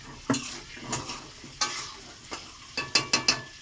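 Potatoes for a meat curry fry in a pan and are stirred now and then, giving sharp intermittent scrapes over a soft, steady sizzle with no talk.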